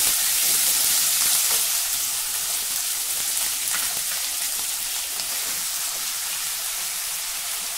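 Thin slices of potato and green chili frying in oil with already-toasted peanuts, giving a dense, continuous hiss like steady rain that stays loud and close throughout, with no voices.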